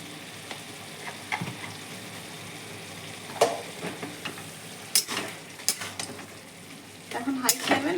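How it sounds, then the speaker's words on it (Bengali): Boiled cabbage is stirred and fried over a high flame in a pan, a low steady sizzle broken by irregular scrapes and clinks of the spoon against the metal. "এখন হাই ফ্লেমে নাড়াচাড়া করবো।"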